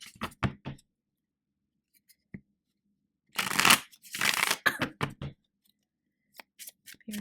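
Tarot cards are shuffled by hand in short bursts: a few quick riffles and taps, a pause, then two longer crisp rounds of riffle shuffling up close, and scattered taps as the deck is squared.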